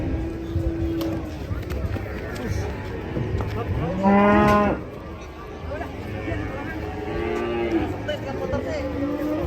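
Cattle moo loudly several times as they are unloaded from a truck, one long bellowing call in the middle, over a busy background of crowd chatter and commotion.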